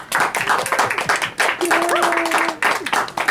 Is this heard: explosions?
no